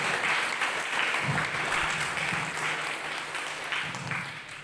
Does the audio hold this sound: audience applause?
yes